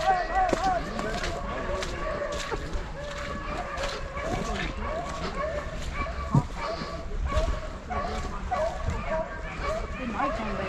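Hunting dogs barking and yipping during a rabbit hunt, two dogs fairly close with repeated bark bursts over continuous background noise while people talk.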